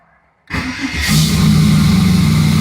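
A 5.3 LS-swapped third-generation Camaro cranks and fires after a brief silence, catching with a loud close burst and then settling into a steady, rough, lopey idle.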